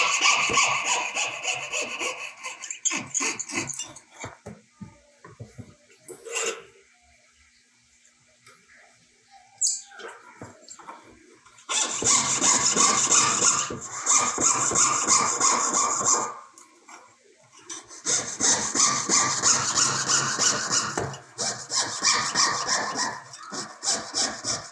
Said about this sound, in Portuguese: sempre quando você for serrar, procure não entrar para dentro da linha